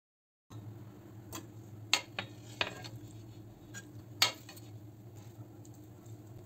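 Several sharp knife strikes chopping beef on a cutting board, irregular and fairly close, over a steady low kitchen hum.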